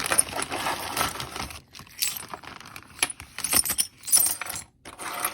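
A handful of hundreds of old metal-detected coins, including cartwheel pennies and silver, jangling and clinking in irregular close bursts with brief quiet gaps.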